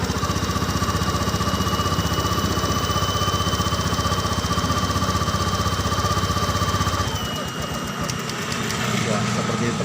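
A Honda Beat scooter engine runs steadily close by, its revs rising and then dropping away near the end, with rough broadband engine noise throughout.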